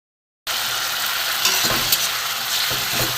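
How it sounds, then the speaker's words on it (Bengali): Banana-flower masala for mung dal is being stir-fried in oil in a pan. After a brief silence, a steady close sizzle begins, with occasional scrapes of stirring. "ভালো করে একটু কষে নেবো দেখুন তেল ছেড়ে দিয়েছে এই যে"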